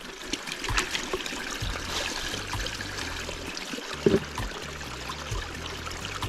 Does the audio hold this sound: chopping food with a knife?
no